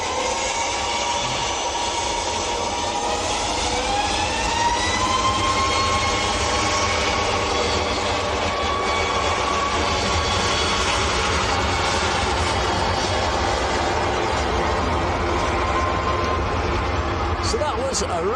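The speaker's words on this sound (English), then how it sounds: "So that was a Ryanair or Malta Air to Tenerife South." A Ryanair or Malta Air jet departs Manchester Airport with a loud, continuous engine roar and a rising, sweeping whine. A person talks over the noise.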